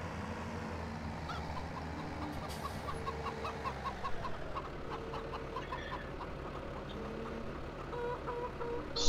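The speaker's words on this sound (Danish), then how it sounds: "de høns der, de larmer da så frygteligt meget" Chickens cluck steadily in the farming game Farming Simulator 2017, a continuous flock chatter over a low machine hum, with no talk.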